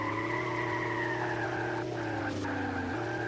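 Kart racing video game audio: a steady, droning engine tone runs throughout under continuous tire skidding and squealing, with a slight pitch shift near the end.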